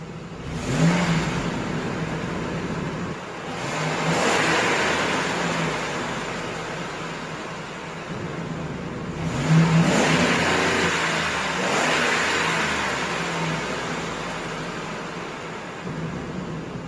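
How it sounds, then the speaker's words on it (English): A 2005 Lincoln Navigator with its 5.4L Ford V8 and stock exhaust revs repeatedly, each rise swelling and falling back to a steady idle between, fairly close and without talk. "I'm going to go ahead and give you guys some revs with the stock exhaust."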